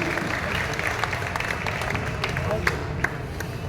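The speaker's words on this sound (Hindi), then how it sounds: "जोरदार तालियां होनी चाहिए" An audience claps after a patriotic Hindi poetry recitation, a steady crowd applause with a few sharper individual claps standing out, mixed with some background murmur.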